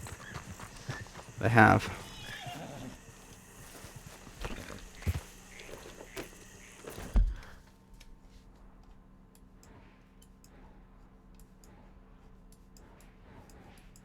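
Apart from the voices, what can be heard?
horse in video game Red Dead Redemption 2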